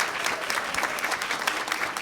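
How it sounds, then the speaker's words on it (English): Audience at a memorial gathering applauds tap dancers, a brief, steady burst of many hands clapping close together. "Let's give them a round of applause."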